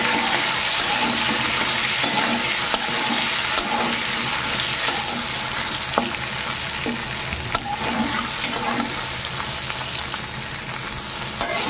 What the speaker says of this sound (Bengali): মাছের মাথা দু টুকরো বেশ ভালো করে ভাজা হয়ে গেছে